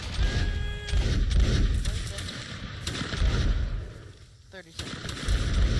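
Musket volleys in a video game line battle, repeated loud cracks and booms layered over one another, with voices calling out orders amid the din.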